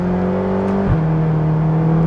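Ferrari California engine heard from inside while driving, a steady smooth hum whose pitch drops suddenly partway through, as at a gear change, then carries on evenly, with no voices.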